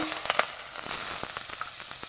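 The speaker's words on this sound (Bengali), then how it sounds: "এখন আমি দিয়ে দেব কাঁচা লঙ্কা কুচানো, পেঁয়াজ কুচানো, রসুন কুচানো।" Chopped green chillies, onion and garlic fry in hot oil in a pan, a steady close sizzle with a few soft stirring clicks and no voices.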